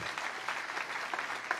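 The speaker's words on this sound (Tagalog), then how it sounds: "Pumalakpak ang mga tapat na lingkod ng Diyos." A church congregation applauds during a sermon, a steady, dense wash of clapping from many hands heard from some distance, with no voices over it.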